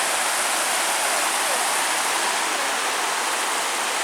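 Hurricane River rushes into Lake Superior at Pictured Rocks National Seashore, making a loud, steady broadband roar of flowing water that fills the whole scene without a break.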